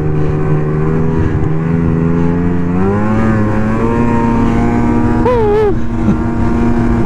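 A snowmobile engine drones steadily and loud along a powdery trail in near-whiteout conditions near Houghton, Michigan, its pitch climbing and shifting as the rider throttles through the snow.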